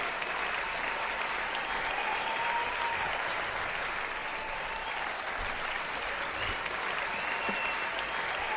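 A large audience at a Hindi poetry gathering (kavi sammelan) in Rajasthan claps steadily to welcome Dr Kumar Vishwas, a sustained, even wash of many hands that stays at moderate volume throughout.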